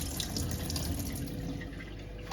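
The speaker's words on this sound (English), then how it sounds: "So we should take off water." Water is poured off cooking rice for mango sticky rice: a steady, close rush of draining liquid with no talking.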